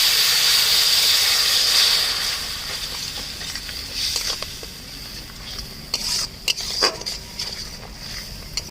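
Spiced chili-paste water poured into a hot pan with red chili powder for a Bengali fig and prawn curry, a loud steamy hiss bursting at first, then fading into softer sizzling with scattered stirring clicks.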